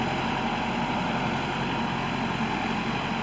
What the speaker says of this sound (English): We're gonna run the boom on out for y'all.